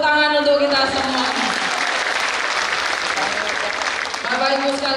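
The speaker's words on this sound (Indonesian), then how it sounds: "Tepuk tangan untuk kita semua." An audience of thousands applauds at an awards event, a loud, dense burst of clapping that carries steadily throughout, with a speaking voice over it at the start and again near the end.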